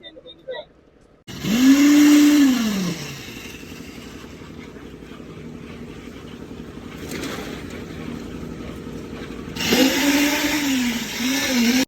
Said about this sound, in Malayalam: വൈബ്രേറ്റർ വെച്ച് ഫുള്ള് മിക്സിങ് റെഡിയാക്കി